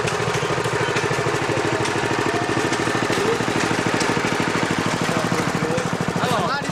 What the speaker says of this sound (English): That's a mighty big engine you're riding around on.